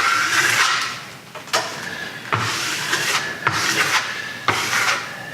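Steel trowel blade scraping Variance plaster across dry, unprimed sheetrock in sweeping swirls, a close, steady rasping rub broken by brief pauses and sharp restarts as the blade changes direction.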